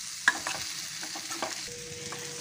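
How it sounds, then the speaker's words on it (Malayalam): Jackfruit seeds fry with chili in oil, a soft continuous sizzle broken by several sharp scraping knocks of a spoon stirring the pan, close and fairly quiet, with no talking. "1-5 മിനിറ്റ് ഇങ്ങനെ നമ്മൾ ഇളക്കി ഇളക്കി നല്ലപോലെ ഫ്രൈ ചെയ്തെടുക്കണം."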